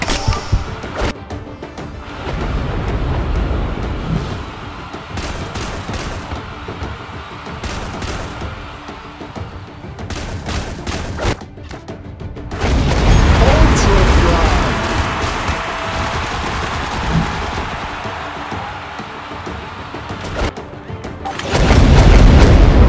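FRAG Pro Shooter mobile game combat with repeated gunfire bursts and booming explosions, dense and loud throughout, with game voice lines and music mixed in.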